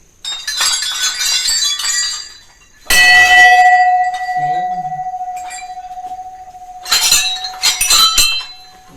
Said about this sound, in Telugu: గంట చూడండి.